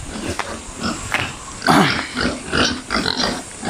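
Pigs in their pens on a hot day grunt and snort in a steady run of close, overlapping calls, with no talking over them.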